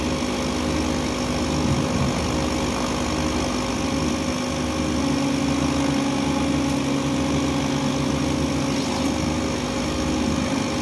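A CO2 laser cutting machine works through letters with a steady, unbroken mechanical hum and whine, loud and constant throughout, with no talking.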